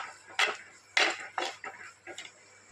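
A spoon stirs a chili curry in a metal pan, scraping and clinking in four or five distinct bursts at an uneven pace, close and fairly loud, with a sharp knock at the end.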